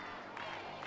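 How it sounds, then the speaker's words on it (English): Stadium crowd at a women's field hockey quarter-final between Argentina and China rising into cheers and applause, a broad roar swelling briefly under a commentator's voice. "Now the crowd start to find their voice"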